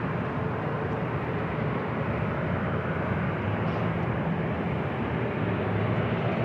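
Jet airliner taking off from runway 27 at San Diego airport, a steady, loud broadband engine roar held at a constant level for the whole stretch, with no voices over it.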